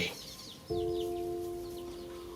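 Faint high peeping of chicks with a hen's drawn-out, tonal call, quiet and close, against soft outdoor background.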